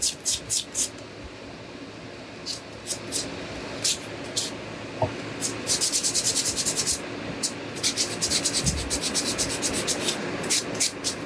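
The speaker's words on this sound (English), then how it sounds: "I'm just sanding really good." Close, scratchy sanding strokes on a Dollar Tree pumpkin's stem rasp back and forth in uneven bursts, sometimes quick and clustered, sometimes spaced apart.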